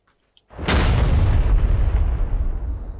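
A C4 charge detonates in PUBG with a sudden heavy boom and a loud roaring blast that stays dense for a few seconds. No voices are heard.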